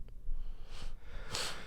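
A single short sneeze cuts through near the end during a casual conversation about college football, after a softer breathy sound.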